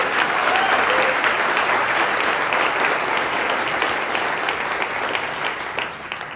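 A studio audience gives a round of applause during a live political talk show, with steady, dense clapping close by that starts strong and slowly thins toward the end.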